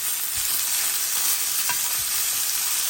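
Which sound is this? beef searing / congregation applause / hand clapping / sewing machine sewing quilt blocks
beef searing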